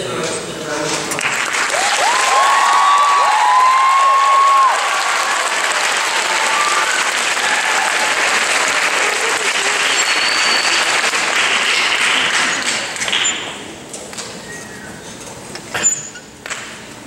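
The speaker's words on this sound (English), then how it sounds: "Please welcome the Cypress Bay Men's Chorus with a round of applause" Audience applause greets the Cypress Bay Men's Chorus at a high school chorus district event: loud, dense clapping from a large crowd that holds steady for about thirteen seconds, then thins into scattered claps.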